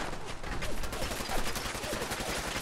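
Rapid, sustained gunfire in Fallout 4, a steady fusillade of close shots filling the whole stretch with little pause.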